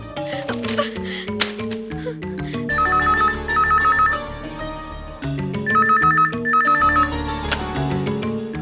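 A telephone rings in a Tamil television drama scene, two trilling double rings, each loud and electronic, sounding over a bed of dramatic background music.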